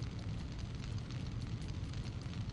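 An explosion in the video game Syphon Filter: a steady, dense roaring rumble with crackling, loud and continuous with no pauses.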